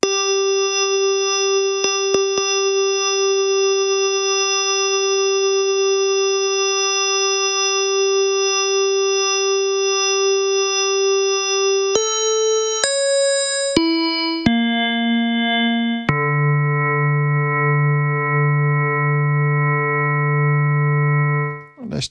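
Wavetable synth tone from a Drambo Wave Motion module: a steady sustained harmonic drone that holds for about twelve seconds, then shifts abruptly through several higher and lower pitches before settling on a buzzy low tone, alone and loud.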